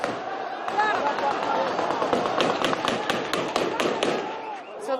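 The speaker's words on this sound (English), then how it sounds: "A lot of celebratory gunfire" Rapid cracks of celebratory gunfire burst out in quick succession over a noisy crowd of shouting voices surging toward a prison, sharp and fairly near.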